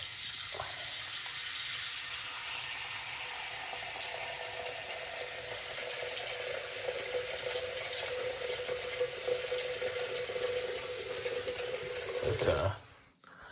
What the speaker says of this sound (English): I first go to my sink here. Fill it up.